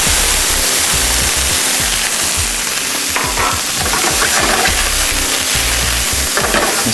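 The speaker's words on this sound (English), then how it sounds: "we're going to add some olive oil to this, and then some diced onions" Diced onions sauté in olive oil in a hot 12-inch sauté pan, a loud, close, continuous sizzle broken by the scrape and clatter of stirring, with no talk.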